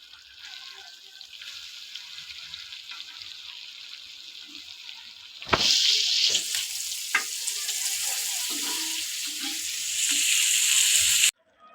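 Spiced fish fries in a pan with a constant sizzle, and a sharp knock and louder hiss mark the fish being flipped partway through. The frying then carries on strongly until it stops abruptly.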